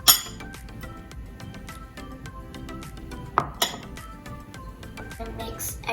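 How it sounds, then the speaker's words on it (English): Banana bread batter mixed in a bowl, with quick repeated clinks and taps of a utensil against the bowl and a few sharper knocks, fairly close. "And mix everything."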